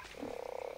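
A frog in a swamp in the ARK survival video game gives a low, rapidly pulsing croak, close and steady, heard alone.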